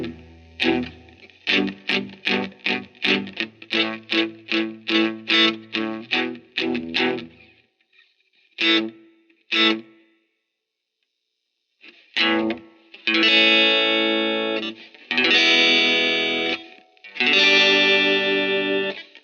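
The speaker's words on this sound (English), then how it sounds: "let's give it a little reverb here and see if we get any reverb." A Telecaster electric guitar with single-coil pickups plays through a repaired Marshall tube amp with reverb switched on, first a run of rhythmic strummed chords, then a pause and several long, loud sustained chords ringing out, with no talking.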